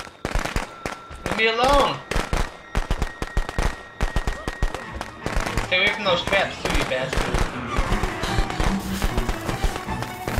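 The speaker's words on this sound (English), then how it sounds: "I just hit you with another set of firecrackers" Rapid bursts of sharp firecracker pops in the Friday the 13th video game, many quick crackling bangs in clusters, loud and close, with someone talking and shouting over them.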